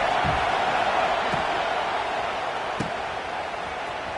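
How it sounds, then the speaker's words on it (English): A stadium crowd at a Gators football game, a dense roar of cheering and noise held steady throughout, with a few thumps. "This crowd bringing the energy and noise early."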